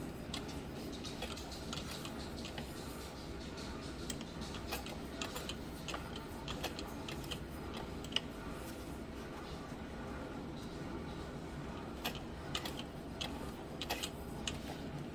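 A hand-cranked sewing machine stitches vinyl for a backpack, giving a steady, close mechanical ticking and whirring that runs without a break and with no talk.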